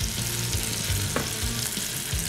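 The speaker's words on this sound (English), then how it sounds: "we're gonna let this really get a nice hard sear on all, all the sides" Beef tenderloin sears in melted butter in a hot pan, giving a steady, dense, close sizzle that holds without pause, with a faint low hum underneath.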